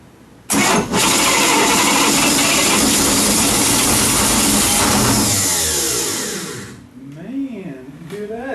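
A Shoal Runner boat engine, salvaged from a sinking and fitted with a rebuilt starter, cranks loudly for several seconds with a steady churning roar, then slows and stutters to a stop without catching, leaving low rumbling afterward.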